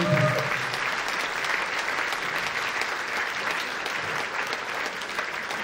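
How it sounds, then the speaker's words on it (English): An audience at an alumni reunion tribute concert gives a sustained round of applause, dense even clapping from many hands for several seconds. "would you please give him a round of applause?"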